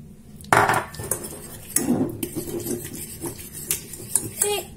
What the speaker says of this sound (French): vous enlevez votre casserole hors du feu et vous continuez à remuer comme ça